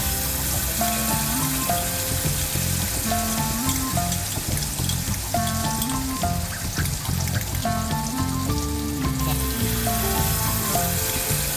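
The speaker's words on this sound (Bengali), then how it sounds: "তেল গরম হয়ে এলে এতে 1 চামচ মতো কালো জিরে ফোড়ন দিয়ে দেবো। এরপর এতে অ্যাড করব সর্ষে পোস্তের মিশ্রণটা।" A mustard and poppy seed paste fries in hot mustard oil tempered with nigella seeds, giving a continuous crackling sizzle under background music.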